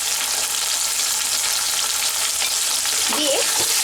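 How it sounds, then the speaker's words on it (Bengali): Potatoes seasoned with salt and turmeric sizzle steadily in hot oil, a bright continuous crackle with occasional stirring scrapes near the end, close and loud, no voices. "আলুটা আমি লাল করে ভেজে নেব।"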